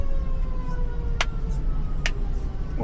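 Fire truck siren arriving at a highway rest area, a wailing tone rising and falling over loud idling engine rumble, with a couple of sharp brief blasts.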